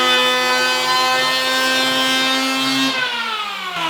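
A FERM PPM1010 electric planer runs at a loud, steady high whine while cutting a rebate, its pitch dropping near the end as it spins down or loads into the wood.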